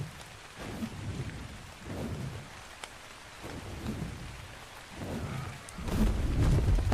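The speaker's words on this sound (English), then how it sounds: "Hey, at least it's raining, so I got my water." Steady rain falls in ARK: Survival Ascended on the Scorched Earth map, hissing continuously while several deep thunder rumbles swell in and out, the loudest arriving near the end.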